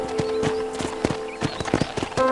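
Horse hooves clip-clop at a steady walking rhythm in the Western game Red Dead Redemption, close and clear, with a soft snort or whinny and music sustained beneath.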